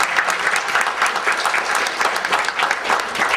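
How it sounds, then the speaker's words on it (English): Audience applause at a 2010 Rutgers computer science honors presentation: dense, steady clapping from a crowd, continuous and fairly loud throughout. "I would like to have a round of applause for both students first."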